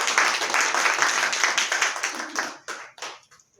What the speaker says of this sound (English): So let's give Molly a round of applause.